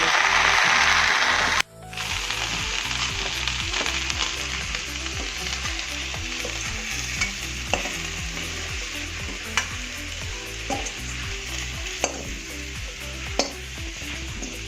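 Spices temper in hot oil in a clean pan for dahi bhindi, a sharp burst of sizzling that settles into a steady crackle, with a few soft clicks of a spoon against the pan.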